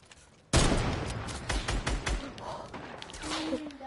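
Video game gunfire opens suddenly in a rough burst, followed by several more scattered shots and rattling over a few seconds, all moderately loud with game ambience around them.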